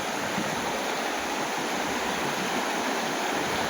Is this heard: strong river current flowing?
yes